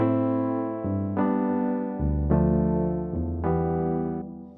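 Sustained synth keyboard chords in FL Studio change every second or so in a slow Afrobeat-style progression, each chord ringing full and warm with no voices.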